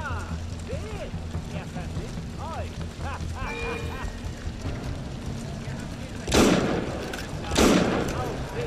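Two loud broadband blasts a second apart near the end, gunshots from a two-shot gun in Assassin's Creed Unity, over a busy background of game music and mechanical effects.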